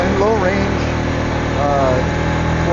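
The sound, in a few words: Suzuki KingQuad 400 FSI ATV engine driving in gear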